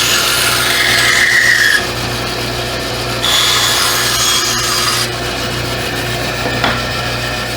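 A restored 1930s Craftsman bandsaw runs with a steady mechanical hum and rasping blade as it cuts 3/4 inch plywood, the loud, close cutting noise rising and easing in sections, with no talking.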